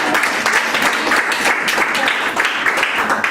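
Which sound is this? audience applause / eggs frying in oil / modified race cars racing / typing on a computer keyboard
audience applause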